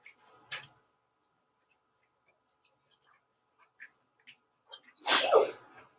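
A single loud human sneeze bursts out near the end, following a short sharp earlier burst and a few faint ticks in an otherwise quiet room, with no talk over it.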